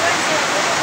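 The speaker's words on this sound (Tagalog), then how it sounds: "Inabot kami ng ulan mga idol." Rain falls steadily outdoors as a brief, even hiss, loud and close, with no break in the wash of sound.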